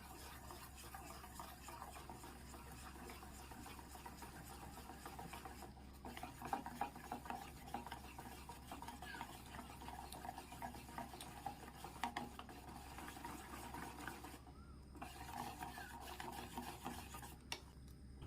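Wheat flour and potato batter for liquid-batter paratha stirred steadily in a bowl, a continuous close scraping and rubbing texture with occasional utensil knocks against the rim, no voices.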